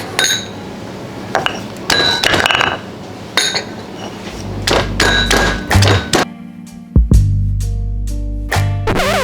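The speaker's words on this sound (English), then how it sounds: "first we crush this one in the, what you call this one? Pestle and mortar" Small red chilies crushed with a pestle in a mortar, loud irregular thuds and clinks of stone or ceramic knocking, some in quick bursts, close up with no talk.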